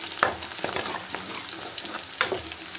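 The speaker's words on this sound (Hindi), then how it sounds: "यहाँ तड़का भून रहा है फ्रेंड्स" Tadka of tempering spices sizzles and crackles in a hot pan for Indian dal, a steady frying hiss broken by a few sharper pops and a soft stirring scrape, close and with no voices.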